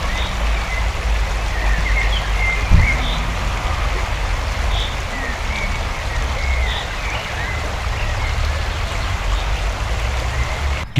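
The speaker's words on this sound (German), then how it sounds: "gerade einen kleinen Bach oder Fluss überquert" Water of a small stream or river rushes steadily nearby while hikers cross it on a trail, a constant broad wash with faint bird calls above, no talking.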